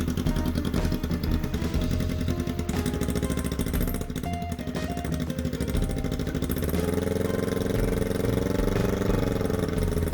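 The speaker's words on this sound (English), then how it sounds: "I let the clutch out and let it idle for a second to make sure the chain wouldn't fly off." A Kawasaki Ninja 250 motorcycle engine fitted to a homemade go-cart idles steadily with the clutch out, a loud, close, continuous rumble with a slight shift in tone toward the end.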